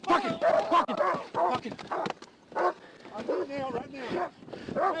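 A dog barks and yelps in frantic bursts amid a scuffle, with people shouting loudly over it.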